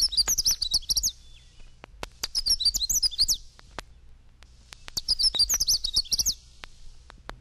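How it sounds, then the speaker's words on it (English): A Canada Warbler sings three rapid, bright, jumbled warbling phrases, each about a second long and separated by pauses, clear against a faint low background with scattered clicks. "Canada Warbler."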